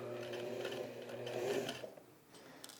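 A sewing machine stitches nylon webbing strap for a homemade backpack, a close, continuous whirring hum that stops abruptly after about two seconds.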